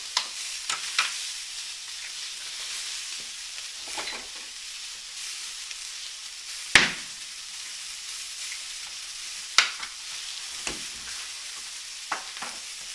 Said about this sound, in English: I just want enough temperature to keep that steak kind of searing, as you can hear